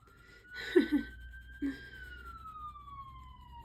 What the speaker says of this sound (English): The emergency vehicle is coming, I promise you. I can hear it now, it's getting louder.